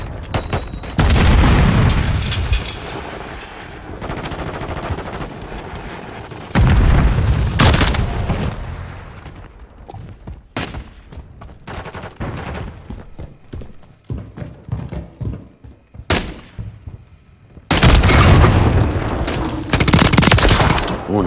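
Gunfire and grenade blasts from the video game Call of Duty Modern Warfare III come in loud bursts with rapid shots and heavy booms, separated by quieter stretches.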